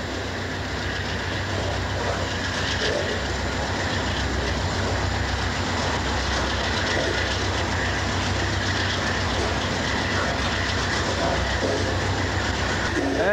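An eastbound BNSF intermodal freight train passes on the rails near an aircraft plant, giving a steady, loud, continuous rumble and wheel clatter close by for the whole stretch, with no talking.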